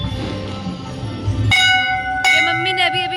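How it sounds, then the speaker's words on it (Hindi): Temple bell rung by a mother during Diwali prayers at a home shrine, two bright metallic strikes about a second apart, each ringing on with a shimmering decay over a low background murmur. "ये मम्मी ने अभी घंटी बजाई है"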